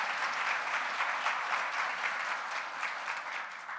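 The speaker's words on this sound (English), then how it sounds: "another round of applause for our MSN Nursing Leadership and Management graduates." A crowd at a nursing hooding ceremony claps for MSN Nursing Leadership and Management graduates, a continuous dense round of applause at an even level with no talking over it.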